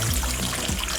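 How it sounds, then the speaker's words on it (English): Warm water pours for pizza bread dough in a brief, steady trickle, a close, even liquid rush that fills the whole moment. "first thing, you'll put that warm water that I was talking about"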